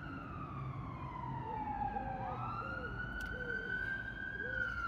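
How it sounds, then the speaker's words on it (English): A siren wails in the distance, its pitch sliding down and then back up, over a low background rumble with faint chatter. "Will sirens always be a part of my life?"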